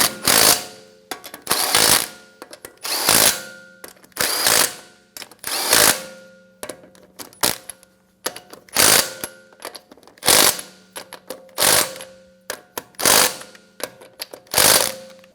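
A power impact tool snugs down wheel lug nuts on a 2013-2017 Honda Accord, firing about ten short, sharp rattling bursts in an even rhythm with quiet gaps between them, close and loud.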